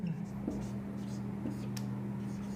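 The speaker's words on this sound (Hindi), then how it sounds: "इसके बाद हम लोग लिखते हैं" A pen scratches steadily during a chemistry lesson, soft scribbling strokes at close range, heard beneath a constant electrical hum.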